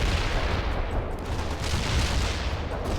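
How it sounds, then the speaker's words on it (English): Sustained battlefield gunfire from the real-time strategy game World in Conflict, a dense, continuous barrage of shots and booms rolling steadily for a few seconds with no talk over it. "Firing the gun."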